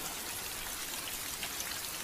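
Raindrops falling in a dense, even patter with no pauses, a constant soft hiss of drops on surfaces, fairly quiet and with no voices.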